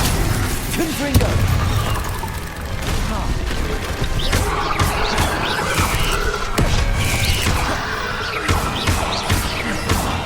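Confringo blasting spell in a Hogwarts Legacy duel, loud repeated crashing explosions and booms over a steady roar of combat effects, with brief voices mixed in.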